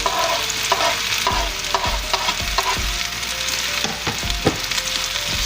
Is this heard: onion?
yes